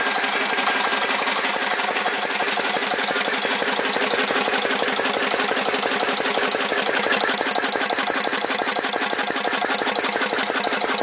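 A Lister Listeroid 6/1 single-cylinder diesel engine runs steadily close by, a fast even mechanical chugging and clatter that holds at a constant pace throughout.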